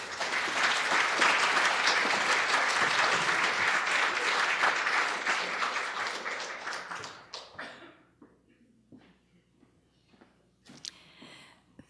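An audience welcomes a guest speaker at a lecture on Japanese women printmakers, with loud, dense applause filling the room for about seven seconds before it thins out into a few scattered claps and near silence.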